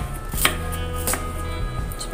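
A knife chops a single large shallot on a board, a few crisp, separate taps spaced unevenly over a low background hum, close and fairly quiet, with no talking.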